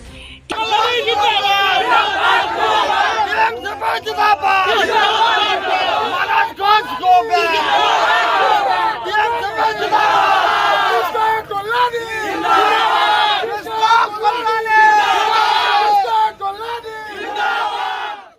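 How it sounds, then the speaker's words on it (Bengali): A crowd at a by-election polling site in Raiganj chants 'go back' slogans at a BJP candidate, loud, massed voices shouting continuously and rhythmically for the whole stretch. "টিএমসিপি সমর্থকরা এই গো ব্যাক স্লোগান দেন বলে অভিযোগ"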